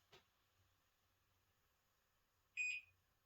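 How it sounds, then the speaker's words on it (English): A newly installed security keypad gives a short electronic beep, faint and alone in a quiet room, preceded by a brief click. "And it beeped"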